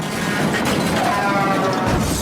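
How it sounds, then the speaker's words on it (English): A motorcycle crash sound effect gives a dense, loud burst of smashing and scraping noise that holds steady for its whole length, with no voices. "Motorcycle wrecks."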